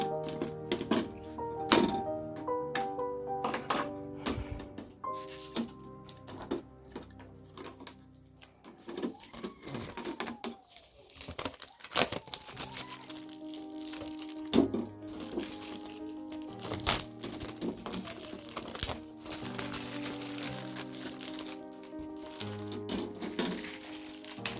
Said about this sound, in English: And the top part is also wrapped, so we need to unwrap it.